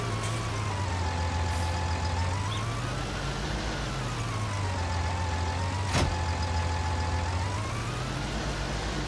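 Large tractor idling in Farming Simulator 19, a steady low engine drone that rises and falls gently in pitch, with a brief sharp click near the end and no talk.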